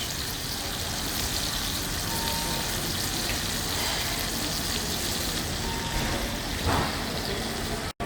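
Hot aromatic butter sizzles steadily in a tilted roasting pan while being spooned over a rack of lamb, a constant loud hiss that stops abruptly at the end.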